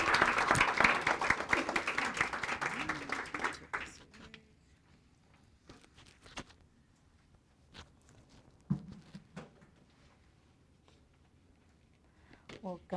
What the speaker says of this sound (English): So please give a really rounding round of applause for